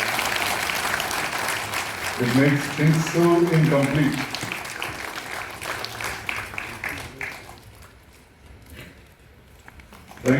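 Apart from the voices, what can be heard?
applause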